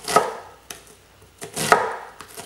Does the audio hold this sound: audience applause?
no